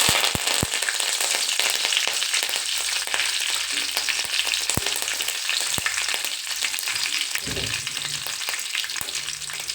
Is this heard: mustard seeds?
yes